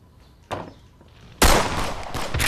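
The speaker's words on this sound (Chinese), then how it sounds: "别开枪了，敌人都跑了，节约子弹" Gunfire in a Chinese war film's battle scene against Japanese forces: a sharp shot, then a louder, sustained burst of shooting that keeps roaring to the end.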